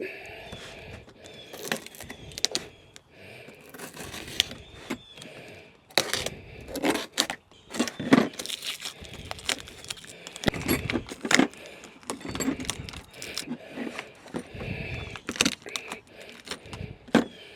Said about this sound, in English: these are the parts that came in a blister pack that go with this. let's open these up.